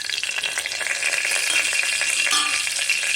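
Whole spices such as fennel, cinnamon, cloves, cardamom and black cardamom sizzling in hot oil in a pan for pulao, a steady loud close crackle with faint stirring, no talk.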